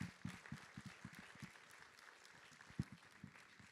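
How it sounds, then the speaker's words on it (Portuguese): Sparse, fairly distant clapping from a church congregation at a Bible school service, a scattering of hand claps that thins out, with faint murmuring in the background. "Tem que aplaudir a Cristo, né?"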